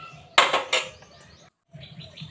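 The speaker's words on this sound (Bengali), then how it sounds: "এবার হাতাটা দিয়ে একটু ভালো করে মিক্স করে দেব, যাতে চাল আর ডাল একসাথে হয়ে যায়।" A ladle scraping and knocking inside a cooking pot while mixing rice and lentils for khichdi, with two sharp metallic clanks up close followed by softer stirring sounds.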